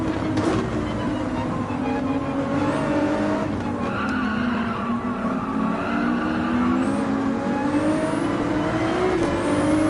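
Race car braking hard with tires skidding in the racing game Gran Turismo 7, a continuous loud engine roar and tire scrub running steadily throughout under game audio.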